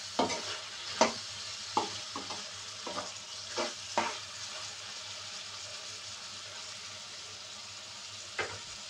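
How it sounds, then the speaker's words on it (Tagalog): Laing with green chili, shrimp and chicken cooks in a frying pan while a spoon stirs it, making eight or so distinct scraping strokes over a soft, continuous sizzle. No voices. "Haluin natin."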